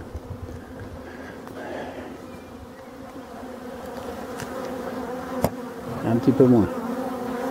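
Male honeybees (drones) swarm around forest beehives, producing a dense, continuous buzzing close by, with a brief louder burst of wingbeats near the end and a person speaking briefly over it.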